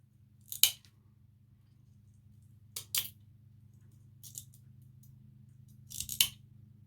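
Scissors snipping material for a mosaic on a slate board, four separate sharp cuts spaced a couple of seconds apart, close and crisp over a faint low hum.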